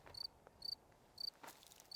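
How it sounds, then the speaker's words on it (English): Crickets chirp outdoors on a golf course in short, evenly spaced bursts of high trilling, about four pulses, faint and steady with no talk over them. "Crickets."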